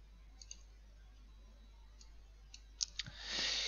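A few sharp, quiet mouse clicks on the Contracts option in a Microsoft Flight Simulator 2020 add-on, brief ticks scattered over low background hiss, followed by a rising swell of noise at the end.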